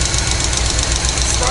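An old Chevy Blazer engine idles close by with a rough, steady rumble and rapid ticking from its rockers.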